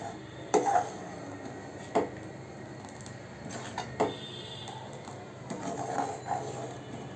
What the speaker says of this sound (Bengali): এ পর্যায়ে চুলার আঁচ একেবারে লো আঁচে রেখে এভাবে করে বারবার করে নাড়াচাড়া করতে হবে